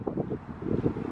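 Gusty wind buffets the microphone in low rumbling bursts for about a second.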